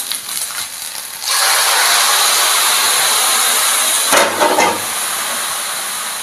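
Leftover pasta water poured into a hot pan while cooking spaghetti aglio olio, bursting into a loud, steady hiss and sizzle that holds for several seconds, with a brief surge near the end.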